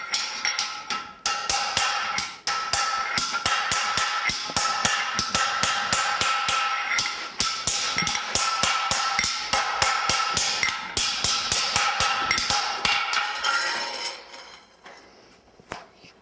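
A wagon hub band is hammered back into round on a mandrel, a long run of rapid, sharp ringing metal blows close by, pausing briefly and thinning out toward the end, no talking.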